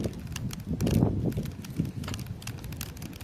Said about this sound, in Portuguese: Estou vendo esse cavalo